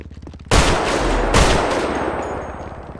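Gunfire from a Mark II marksman rifle in a video game bursts in loudly after a brief quiet lead-in, a dense, sustained blast with a second sharp crack about a second later, trailing off slowly.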